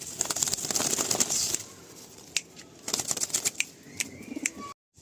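Andhra (Madrasi) pigeons crowded together in a loft, with close bursts of wing flapping and rustling against a quieter backdrop of soft cooing and scuffling.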